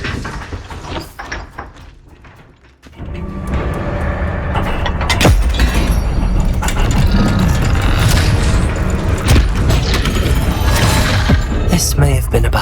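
Spell blasts from Confringo and Accio being cast in Hogwarts Legacy: a sudden heavy boom near the three-second mark gives way to continuous loud crackling, rumbling explosions and magical effects that carry on to the end.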